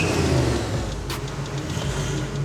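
A turbocharged car running on a dyno gives a loud, steady engine drone with a brief sharp hiss at the midpoint, close and continuous, with no talk.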